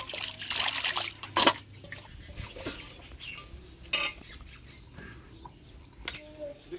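Chicken meat being washed and rinsed with water in a home kitchen, producing faint splashes and trickles with a few sharper sloshes, heard under intermittent conversation.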